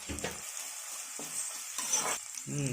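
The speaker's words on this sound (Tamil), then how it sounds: "வெங்காயம் வதங்கிடுச்சு போலையா?" Chopped onion and green chili sautéing in a pan for a vegetable kurma, with quiet sizzling and several bursts of spoon scraping and stirring, no talking.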